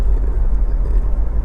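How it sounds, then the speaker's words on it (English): Diesel Honda CR-V 2.2 i-DTEC EX 4x4, low mileage, idling with a steady low rumble, close and fairly loud, smooth and even without surges. "it starts instantly, of course, and settles to an absolutely smooth, even idle"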